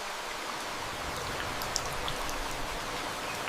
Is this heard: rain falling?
yes